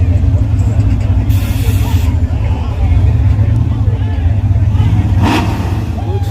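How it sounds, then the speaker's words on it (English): A nitrous system sprays on a street race car, a loud rushing hiss over a heavy, steady engine rumble, with bursts of hiss and crowd babble in the background. "we got that nitrous working"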